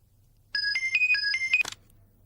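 A phone's electronic ringtone for an incoming call plays a bright, repeating melodic pattern for about a second, ending in a brief harsh burst, loud and clear against near silence.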